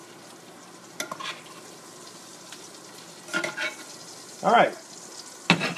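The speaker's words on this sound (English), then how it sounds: "One of my favorite smells is fresh garlic being sauteed." Fresh garlic sautéing in a pan for shrimp scampi with zoodles, a low quiet sizzle broken by a few scraping stirs and clinks, with a brief spoken remark near the start.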